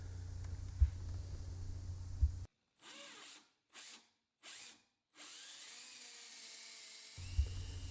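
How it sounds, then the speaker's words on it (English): Power drill with a 1/2 inch Forstner bit boring into reclaimed pallet hardwood, several short close bursts of whirring cutting separated by pauses, then a longer steady drill run. "I'm just using a 1/2 inch Forstner bit here to recess for the screw head."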